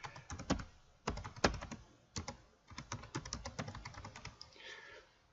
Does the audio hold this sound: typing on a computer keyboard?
yes